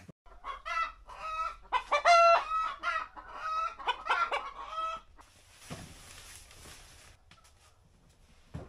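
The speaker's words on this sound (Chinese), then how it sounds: "这小鸡儿这个叫唤" Chickens clucking and a rooster crowing nearby in a rural northeastern Chinese household, a burst of loud overlapping calls and crows for about five seconds, then fading into quiet rustling background noise.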